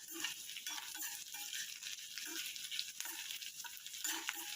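Onions and dried chilli pieces fry in a pan for an ivy gourd and peanut stir-fry, a soft steady sizzle broken by repeated light stirring scrapes, fairly quiet with no voices.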